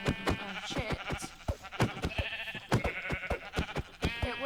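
Blocky Minecraft-style video game sheep bleating repeatedly in quick succession, close and loud, a series of harsh nasal bleats with brief gaps between them.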